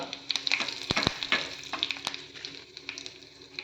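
Crackling, popping sizzle of chopped curry leaves hitting hot ghee, with several sharp spits and pops over a steady frying hiss, close by.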